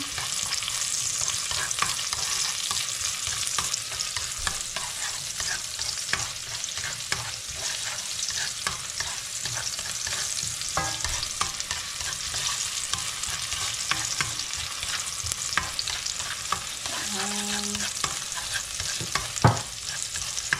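Fried rice with onion being stir-fried in a hot pan, a steady broadband sizzle with scraping stirs throughout, close and fairly loud, a few brief clinks near the end.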